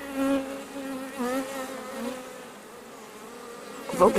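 Honey bees hum and buzz around an open beehive during a honey flow, a close, wavering drone that swells and fades with a few louder passes near the end.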